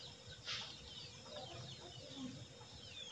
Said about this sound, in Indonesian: ternyata banyak ayam yang muncul